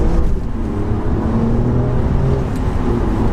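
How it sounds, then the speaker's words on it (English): Alfa Romeo Quadrifoglio engine revving as gears drop with rev matching, heard from inside the car in race mode on a rainy road: a loud, steady low-pitched roar and rumble that carries through without any speech. "as you drop the gear, sort of rev matching. So much drama and theatre with this car."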